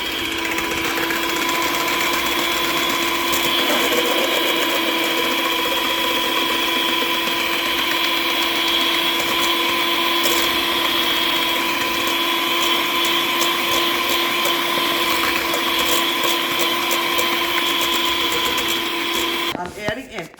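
Egg whites being whipped until foamy with an electric mixer for a cocoa Swiss roll; a loud, steady motor whine runs close and unbroken for about twenty seconds, then cuts off with a few clatters at the end.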